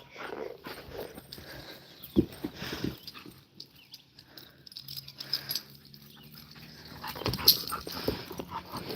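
A dog moves about a garden during yard work, making faint whimpers, scuffs and footsteps, with a few sharper knocks.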